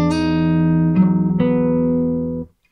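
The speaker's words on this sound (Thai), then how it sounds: "สไลด์มาทั้งๆที่ทาบอย่างนี้เลย ประมาณนี้นะครับแล้วพอสไลด์ปุ๊บ ผมก็จะเกาสาย4กับสาย3ต่อเนื่องมาเลยนะครับ" On an acoustic guitar, a sustained note slides and is then followed by two quick strums across the fourth and third strings, ringing clearly and fading out at the end.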